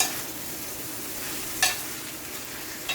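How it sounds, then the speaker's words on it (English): Salted codfish is stirred into a frying mixture in a pan for Jamaican saltfish, under a constant loud sizzle broken by one brief scrape of the utensil. "I'm just going to go ahead and stir."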